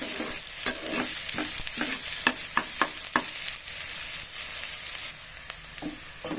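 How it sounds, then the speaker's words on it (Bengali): Sliced onions sizzling in hot oil in a pan, a steady frying hiss broken by a run of sharp scraping strokes from a stirring spatula, close and alone. "পেঁয়াজগুলো একটু লাল লাল করে ভাজা করে নেব"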